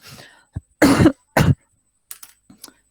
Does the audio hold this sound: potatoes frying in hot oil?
no